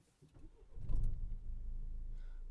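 A starter cranks briefly, then a Renault Megane 3 engine catches and settles into a steady low idle.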